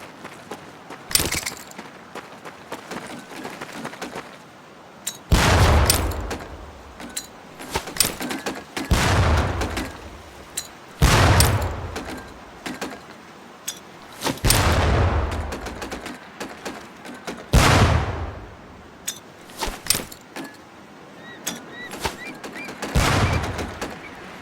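Training grenades exploding one after another during boot camp in Medal of Honor Pacific Assault, about six loud booming blasts spaced a few seconds apart, each with a rumbling tail, over quieter background crackle.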